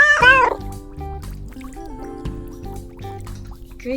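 A cartoon cat in the video game Little Kitty, Big City gives a short, high meow at the start, followed by light plinking game music and drip-like effects.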